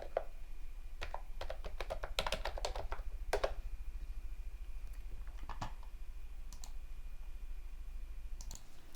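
Computer keyboard keys clatter in quick irregular clusters as a file name is typed, crisp and close, with pauses between bursts over a faint steady room hum.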